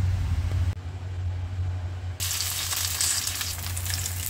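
Ground fish with orange skin, onion and choy sum frying in a pan, a steady close sizzle over a low rumble, with a brief quieter stretch before the hissing swells up bright and loud again.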